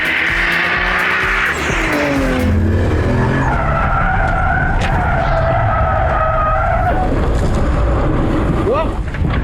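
Tires squeal loudly as a car skids through a spin, the screech sliding in pitch over steady road and engine noise, with a voice briefly heard under it.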